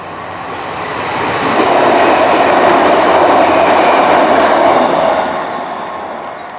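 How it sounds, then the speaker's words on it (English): A passing train rumbles by near Edale, the broad roar swelling to a loud, steady peak with a faint rhythmic clatter of wheels, then fading away, with no talking over it. "Oh, I can hear a train."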